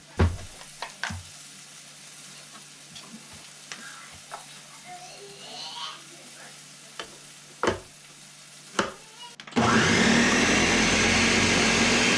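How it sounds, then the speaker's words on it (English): A blender whirs into a yogurt mixture for a cooking dish; after about nine seconds of quiet kitchen clicks and taps, the motor kicks on abruptly and roars loud and steady until the end. "While you're working on blending up your yogurt mixture"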